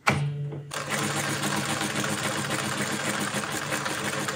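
A Juki LZ-2280 industrial zig zag sewing machine with a direct drive motor runs a back tack, starting after a short click and then humming and chattering steadily close by.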